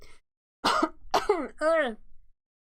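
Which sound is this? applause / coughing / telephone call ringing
coughing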